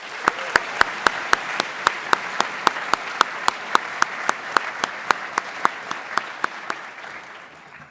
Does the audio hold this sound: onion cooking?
no